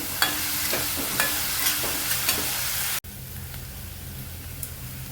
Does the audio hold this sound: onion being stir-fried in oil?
yes